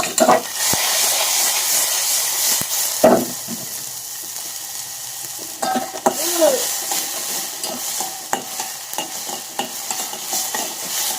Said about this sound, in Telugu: ఈ టమాటా ముక్కలు కొంచెం బాగా మెత్తగా అయ్యే వరకు ఫ్రై చేసుకోవాలండి